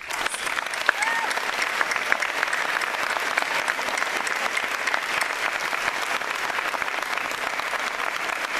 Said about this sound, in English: So we need to give them just the biggest round of applause.